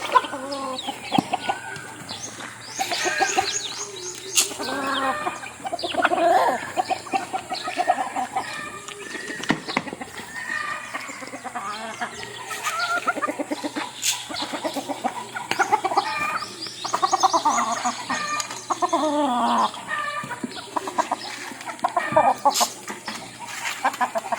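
Backyard hens, one large, cluck repeatedly and close by, with busy overlapping calls from several fowl that continue steadily throughout.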